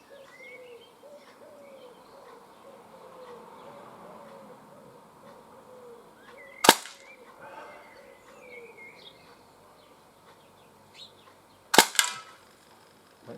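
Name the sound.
Swiss Arms Uzi air gun shots at cans at 15 metres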